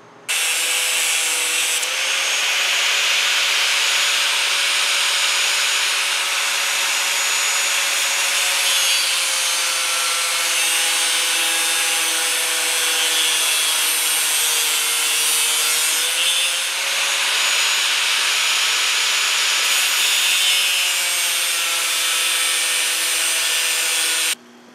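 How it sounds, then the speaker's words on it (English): An angle grinder and a bench grinder profile the point of a steel prop knife blade, producing a loud, continuous high-pitched grinding whine that shifts slightly in pitch as the metal is worked, with no talking. "Now I can use both grinders, both the angle grinder and the bench grinder,"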